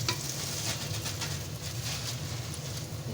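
Panjiri ingredients fry in a pan and puff up as they crisp. A continuous, even sizzle is heard with soft stirring mixed in, and no voices.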